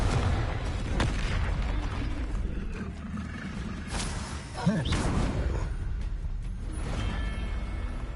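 Confringo spell blasts in the video game Hogwarts Legacy, booming and popping among dense game effects and whooshes, a few sharper hits standing out over a busy, continuous combat background.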